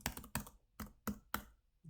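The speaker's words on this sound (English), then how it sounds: "It's my laptop keyboard." Fingers type on a laptop keyboard in quick, close, light clicks, about five taps in under two seconds, with no voices.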